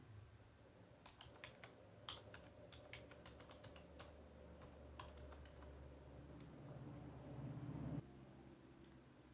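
Fingers tap a computer keyboard in a quiet room, a run of soft, close, irregular key clicks in quick bursts over a faint steady hum, with no speech.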